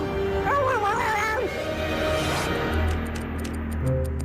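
Cartoon dog Brain from a Tagalog dub of Inspector Gadget whimpers and whines in rising, wavering yelps, followed by background music.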